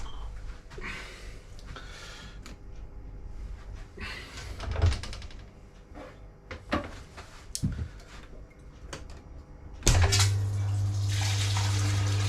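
A keg cleaner switched on and forcing hot water up through a keg and out its ports, a steady pumping, gushing rush that starts abruptly partway through after scattered clunks and handling knocks, close and fairly loud.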